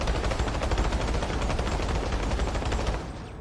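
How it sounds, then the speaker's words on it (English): A Terran Republic combat medic rifle in Planetside 2 fires fully automatic from the hip. It makes a loud, dense stream of rapid gunshots for about three seconds, then cuts off, with no talking. "Off the hip firing."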